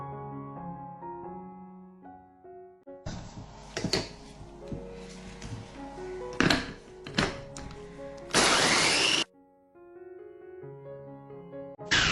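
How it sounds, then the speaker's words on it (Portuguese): Food processor pulsing and grinding biscuits for a pie base, loud bursts of motor whir with rattling chunks, ending in a sustained high grind before stopping, with quieter background music around it. "para fazer a base dessa torta, eu vou usar biscoito. Vou colocar aqui no processador"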